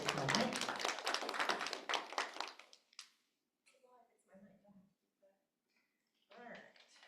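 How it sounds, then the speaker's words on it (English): Room of team members at a meeting giving a round of applause, a brief burst of dense clapping that fades within a few seconds, followed by scattered light taps and a voice talking. "Give them a round of applause"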